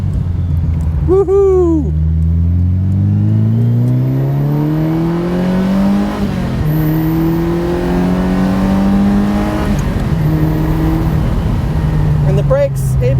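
A Ferrari 328 GTS engine, loud and close, revs up after a downshift from third to second, with rising engine tones sweeping upward repeatedly through the gear, and a voice whoops over it.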